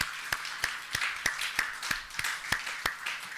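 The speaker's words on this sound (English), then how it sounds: "So maybe a round of applause for him" A conference audience gives a slow, sparse round of applause, with distinct evenly spaced claps standing out over a soft bed of quieter clapping in a large room.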